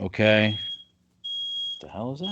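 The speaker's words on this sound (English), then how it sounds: "fire alarm just went off" A home smoke/fire alarm sounds a steady high-pitched tone that starts partway through and holds, following a man's speech, with another voice talking over its tail end.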